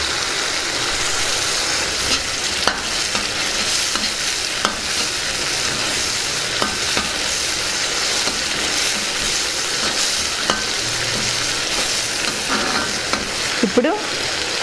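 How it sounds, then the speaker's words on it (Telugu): Tomato paste and turmeric are stirred in a hot pan for a green peas masala curry, producing a continuous loud sizzle with occasional sharp spoon clicks against the pan. "టమాటో పేస్ట్ని ఇందులో వేసుకుందాం. ఒకసారి బాగా కలుపుకుందాం."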